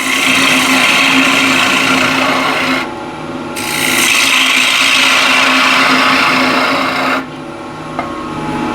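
A ball gouge cutting into a spinning yew wood box on a lathe gives a loud, harsh rasping scrape that runs nearly continuously, dipping briefly twice as the tool eases off, over the lathe motor's hum.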